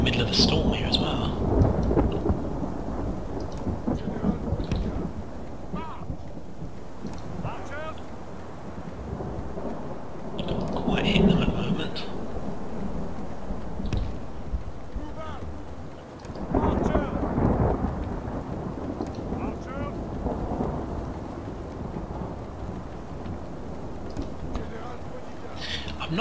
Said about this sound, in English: we're in the middle of a storm here as well.